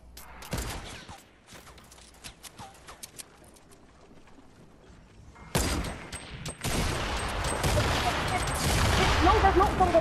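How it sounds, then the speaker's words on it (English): Gunfire in a Fortnite match: bursts of rapid automatic fire and single sharp shots, loud and close, with quieter stretches between volleys and heavy continuous shooting near the end. "Oh, Nick, shoot it, I'm getting shot at"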